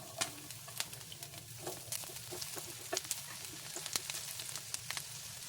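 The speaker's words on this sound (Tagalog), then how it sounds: "Igisa na rin natin ang sibuyas." Onions sautéing in oil in a non-stick pan for a milkfish dish, a soft continuous sizzle with scattered crackles and light stirring clicks, faint and close.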